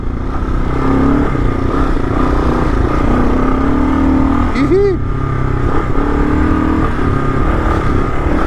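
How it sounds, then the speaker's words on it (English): A Kawasaki KLR motorcycle with a Cogent rear shock roars loudly and continuously up close while ridden fast over whoops, the engine drone holding steady under clattering suspension and a brief squeal partway through. "that's about as fast as I can handle these whoops with this bike"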